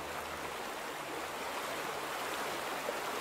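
Stream water flows in the video game The Vanishing of Ethan Carter, a steady, close, rushing babble that runs unbroken from start to finish.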